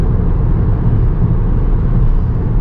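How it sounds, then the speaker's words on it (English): Car exhaust echoing inside a road tunnel makes a loud, steady, dense rumble that fills the space. No distinct shifts or gaps stand out, and no one speaks. "a pretty cool tunnel over here to go under that really magnifies the sound of the exhaust on cars"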